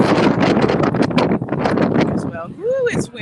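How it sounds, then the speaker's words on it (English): Strong wind buffets a microphone outdoors at EPCOT during the Festival of the Arts at Disney World, a steady loud roar that covers the scene, ending with a few brief high tonal chirps. "it's windy out here"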